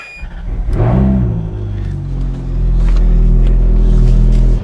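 A Ferrari F430 engine cranks and fires, rising into a loud, steady idle rumble with a brief rev at the start and a strong low drone throughout.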